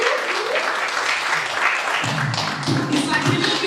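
A comedy-show audience applauds and claps as a comedian takes the stage, a dense, steady wash of clapping under a voice speaking over it.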